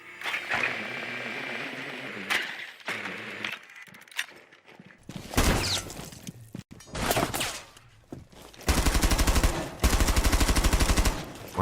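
Bursts of gunfire from Rainbow Six Siege as shots are fired through walls, with separate rapid volleys, a short gap, then sustained loud automatic fire toward the end, mixed with scattered impacts and footsteps.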